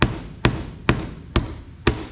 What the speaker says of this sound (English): So you can just put it down and you can hit it with a hammer